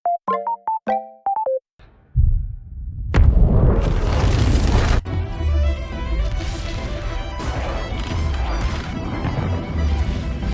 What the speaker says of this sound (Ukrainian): Вибух такого масштабу, що здається, тут би і ніхто не втік